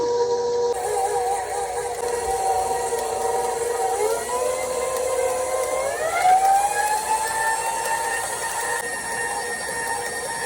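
A bread mixer on its lowest speed kneads 100% teff injera dough, its motor giving a steady, loud whine whose pitch climbs partway through and then holds.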